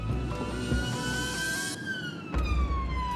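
An ambulance siren on a vehicle travelling at high speed, a loud steady wail rising and then falling in pitch, with road and engine rumble underneath.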